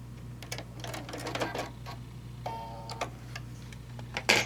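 A home sewing machine stitches a short back tack to secure a fabric bowl cozy, quiet brief mechanical whirring bursts and ticks over a low steady hum, with no talk.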